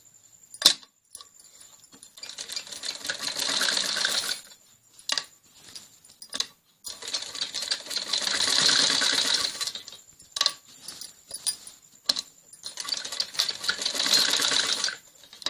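A sewing machine stitches the folded waistband of a khajuri salwar in long, steady whirring runs broken by brief pauses and fabric handling, close and loud.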